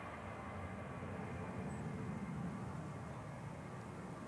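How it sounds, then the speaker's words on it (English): A Ryanair Boeing 737-800 departing Manchester Airport, heard as a steady, broad jet roar with a deep low rumble, fairly distant and unchanging throughout, with no talking. "This is Ryanair to Marrakesh with flight 3126, 737-800 GR UKJ departing now."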